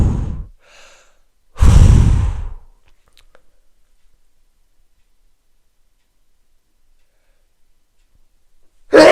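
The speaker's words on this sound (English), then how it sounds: "just take some deep breaths" A couple of deep audible breaths, one short and one long and loud, taken close up, followed by near silence and another breath starting at the end.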